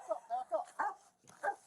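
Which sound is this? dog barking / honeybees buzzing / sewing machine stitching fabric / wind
dog barking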